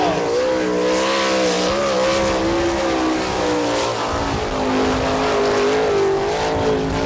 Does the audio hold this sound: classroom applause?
no